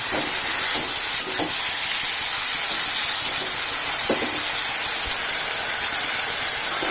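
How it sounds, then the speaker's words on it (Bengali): Steady sizzling hiss of potatoes and ridge gourd sautéing in a hot pan, with occasional soft scraping as they are stirred. "আলু আর ঝিঙাটা আর একটু আর দু মিনিট কষাবো"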